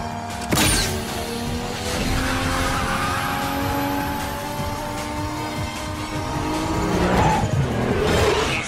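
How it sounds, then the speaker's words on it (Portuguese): A naturally aspirated 2007 Honda Civic Si, stage 5 tuned with intake, header, exhaust, alcohol fuel and a nitrous kit, roars at full throttle, its engine pitch climbing through the gears under a loud, continuous drive-by racing note. "Eu tenho um Honda Civic SI 2007, ele é aspirado mesmo."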